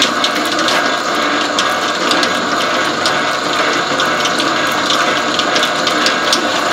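A GOMESIN bread dough mixer runs, kneading dough made with potato, in a loud, close, continuous mechanical whir with a rapid, ratcheting gear clatter and no talking.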